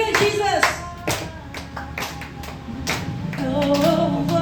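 A church congregation claps in a steady rhythm during worship, with loud, sharp hand claps repeating throughout and voices mixed in beneath them.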